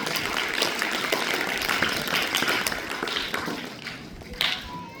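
Applause from an audience at a college event marking Annabhau Sathe's birth anniversary, welcoming a teacher on his first day: steady, moderately loud clapping across the whole stretch, slightly thinning toward the end.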